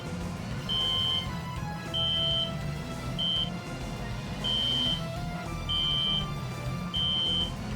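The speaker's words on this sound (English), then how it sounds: "Makes the same noise as my monoxide alarm" Alarm-like electronic beeping in the Phantasy Star Universe video game, six evenly spaced high pure tones sounding over a steady background hum and game ambience.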